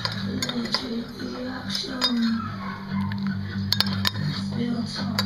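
Empty glass jars clink and knock together in several scattered bright taps over a steady low hum, with faint voices in the background.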